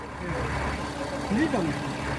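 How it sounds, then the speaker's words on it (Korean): A Kia Mohave engine idles after being started, a low steady rumble with a brief rising whine, heard close while a person talks over it. "이거 엔진 시동 건거 맞아요 고객님?"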